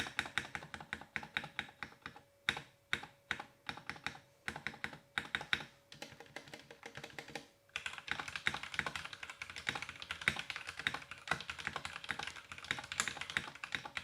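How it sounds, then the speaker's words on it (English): Fast, steady typing on a Kemove Snowfox 61 mechanical keyboard, crisp close-up key clacks in a continuous run, growing denser and busier in the second half, with no talking. "let me give you guys a sound test"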